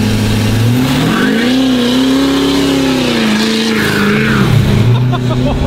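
A truck fitted with duct tape tires drives past loudly, its engine droning and shifting pitch with a constant rattling rumble throughout, no pause in the noise.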